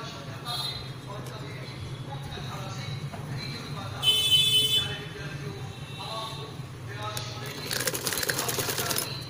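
A sewing machine stitching a baby frock runs in short bursts with a steady mechanical buzz, mostly under someone speaking Hindi, with louder whirring stretches near the middle and the end.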